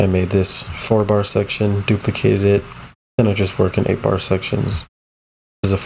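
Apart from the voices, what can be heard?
No distinct noise like a dog, phone or traffic.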